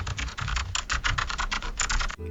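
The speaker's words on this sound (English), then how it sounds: "or ambient sounds like typing," Generated keyboard typing: rapid, steady keystroke clicks at close range, continuous for about two seconds and then cutting off abruptly, with no speech.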